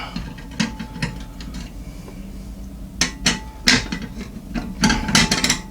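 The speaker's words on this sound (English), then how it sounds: "Should probably put the screws back in these plates just so I have them." Metal screws being driven back into the side plates of a Thermaltake Core P1 Mini ITX PC case, heard as a series of close, sharp metallic clicks and ratcheting bursts in irregular clusters, with no talking.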